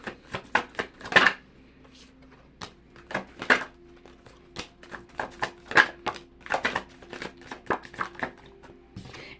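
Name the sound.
shuffling a deck of cards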